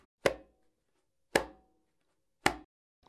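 Three crisp, muted finger strokes on a conga drumhead, evenly spaced about a second apart, each short and dry with a quick decay.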